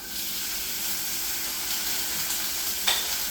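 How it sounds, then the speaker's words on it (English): Seasoned store-bought steaks fry in a hot skillet, giving a steady, bright sizzle and hiss at moderate volume, with a brief sharper crackle near the end and no voices. "So what we've got here are some seasoned steaks from Walmart. We've got our skillet nice and hot."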